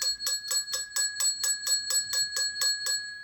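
A ring-for-service bell, the domed desk type, is struck about thirteen times in a steady, quick rhythm, each bright metallic ding ringing close and clear with no talk over it.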